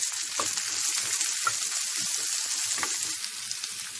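Small shallots fry in a pan with a steady, dense sizzle and crackle throughout, joined by a few soft utensil knocks. The sound stays close and even, and no one speaks.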